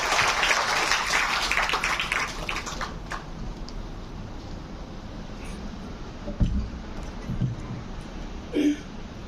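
Audience applause at an Indian community function in Rajkot, fairly loud for the first few seconds and then fading into quiet room noise with a few scattered claps.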